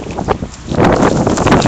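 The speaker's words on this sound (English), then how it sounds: "It's really windy out here." Gusty wind outdoors in Berkeley buffets the microphone, rumbling louder and steadier in the second half, with no talking.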